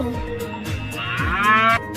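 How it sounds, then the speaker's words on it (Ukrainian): Cows moo in long, drawn-out calls, several overlapping lowing sounds up close, rising and falling over two seconds. "На фермі живуть корови"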